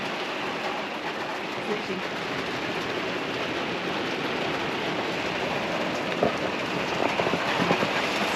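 Heavy rain drums steadily and loudly on a camper roof overhead in Central Otago, New Zealand, a dense continuous patter with occasional louder drops.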